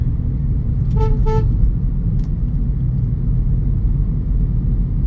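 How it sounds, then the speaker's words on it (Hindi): A car drives through morning traffic on the route from Kalinga Vihar, with a steady low road rumble throughout and two quick horn toots from a nearby vehicle early on. "लेकिन अच्छा लगता है सुबह सुबह गाड़ी चला के"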